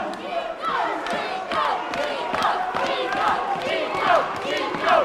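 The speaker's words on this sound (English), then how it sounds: "Crowd try and get behind Chico." A boxing crowd at a Liverpool fight night roars and shouts in support of a tired fighter, a dense, rising wall of cheers with chant-like swells, voices clearly audible throughout.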